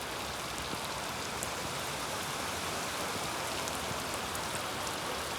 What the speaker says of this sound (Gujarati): જોરદાર વરસાદ છે